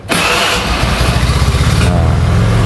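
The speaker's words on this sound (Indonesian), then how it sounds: "suara cranking starternya itu masih kedengeran banget" Honda Vario 110 carburetor scooter, first generation, with its electric starter cranking loudly up close, a whirring starter motor followed by the engine catching and running steadily.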